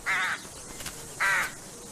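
A rook gives two loud, harsh caws about a second apart, close by and clear against a quiet background.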